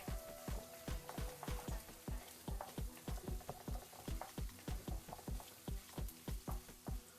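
Onions frying in hot oil in a cooking pan, with a steady sizzle and a quick, regular run of scraping strikes from stirring throughout, close and fairly loud.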